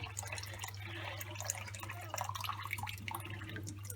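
Peeled pumpkin pieces for a lime-soaked crispy pumpkin dessert are rinsed a final time, giving faint running and dripping water over a steady low hum.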